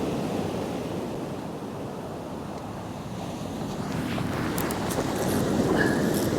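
Waves breaking on a gravel beach at South Withernsea on the Holderness coast, a constant hissing surf roar mixed with wind that swells a little louder toward the end.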